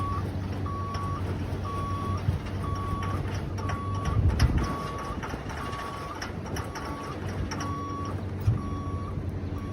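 Backup beeps from an auctioned school vehicle sound in a steady, evenly spaced series as it reverses, over a continuous low engine rumble with a few louder thumps.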